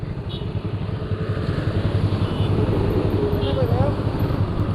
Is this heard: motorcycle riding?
yes